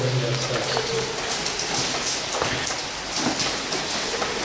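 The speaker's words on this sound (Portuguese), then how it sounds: "O barulho da chuva atrapalha." Steady, heavy rain pattering on surfaces, a dense continuous wash of drops with no voices.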